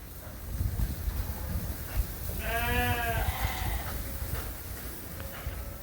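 A Dorset sheep or lamb gives a single clear bleat of about a second over steady wind noise outdoors during lambing season, with no talking.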